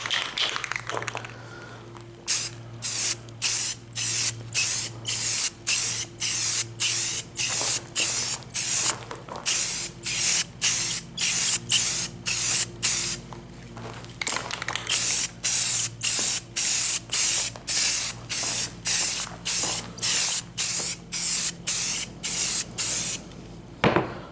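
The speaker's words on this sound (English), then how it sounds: "So let's go ahead and spray. So a little bit of a fine mist over it." A spray can mists a fine coat onto car taillights in a long run of quick, evenly spaced hissing bursts, close and loud, with a brief pause partway through.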